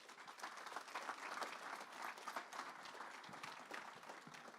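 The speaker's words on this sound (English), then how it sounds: "Let's give all these folks a round of applause." Dense, sustained audience applause at an FFA gala, a steady wash of many hands clapping together for several seconds, heard from a distance at low level.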